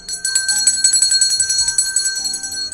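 A bell rings in rapid repeated strikes for nearly three seconds, bright and steady with a clear ringing tone throughout and no talking over it.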